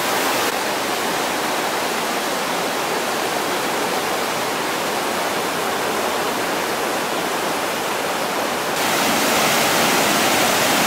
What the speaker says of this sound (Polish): Woda wspaniale spada z tej skały.